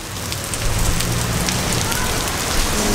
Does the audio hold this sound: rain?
yes